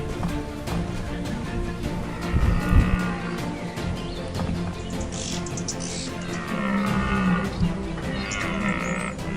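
A herd of buffalo low and moo repeatedly at close range, deep drawn-out calls overlapping one another amid steady rustling and movement.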